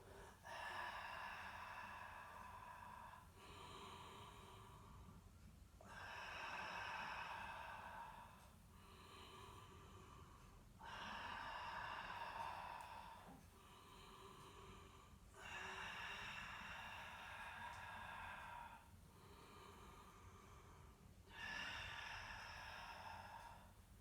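Steady, rhythmic exhalations during intermediate-to-advanced Pilates work with a ring or straw, about six long breathy bursts repeating every few seconds, close and moderately loud, with no talking.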